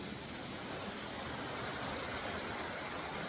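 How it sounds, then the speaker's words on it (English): Chimney Top Falls, a rugged off-trail waterfall in Kentucky's Red River Gorge, pours in a constant, even rush of falling water, moderately distant and unbroken by voices. "another beautiful rugged off-trail waterfall"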